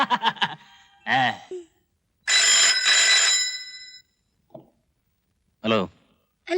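Telephone ringing in a Marathi comedy film scene, a bright electronic ring burst sounding between short spoken exchanges and sighs, with a further brief ring after a pause.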